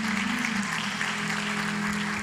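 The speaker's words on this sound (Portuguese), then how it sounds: "Vamos dar uma salva de palmas pela vida dessa preciosa." Church congregation applauding together, a steady wash of clapping over a low sustained organ or keyboard tone, with faint voices underneath.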